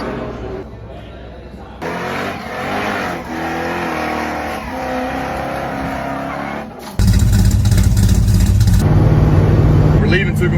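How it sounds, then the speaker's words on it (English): A truck engine hums steadily while cruising the highway through Oklahoma, with voices talking over the drone, before louder wind and road roar swells for the last few seconds. "Truck's running great."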